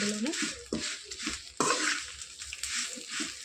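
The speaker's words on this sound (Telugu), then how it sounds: "చూసారు కదా వేగిన సౌండ్ ఎలా వస్తుంది" Curry leaves fry in hot oil in a pan with a steady crackling sizzle, broken by close clatter and scraping as a spatula stirs them.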